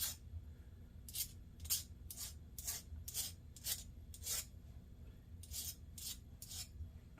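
Metal file strokes across the mushroomed shaft threads of a vintage Ocean City 1800 fishing reel, about a dozen short rasping passes in uneven rhythm, close but quiet.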